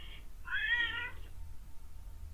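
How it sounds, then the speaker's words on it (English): A pet cat lets out one loud, drawn-out meow close by, lasting about a second, followed by quiet room hum with no voices. "Animals screaming. It's just my cat."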